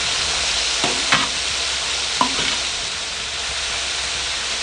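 Boiled peas and tomatoes hiss and sizzle steadily in a hot pan for poha, with a few soft clinks and scrapes of a spoon stirring through the continuous frying noise.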